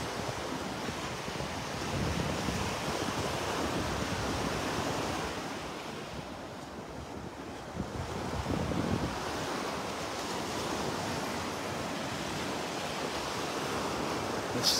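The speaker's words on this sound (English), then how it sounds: "Walking into the wind now, it's coming out of the northwest." Steady northwest wind gusting across an open beach at Delnor-Wiggins with surf rolling in, a continuous loud broadband rush with microphone buffeting and no voices.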